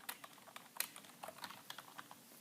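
Fast typing on a computer keyboard, entering an install command at a terminal prompt: a quick run of light clicky keystrokes with uneven rhythm, close and fairly faint, no voices.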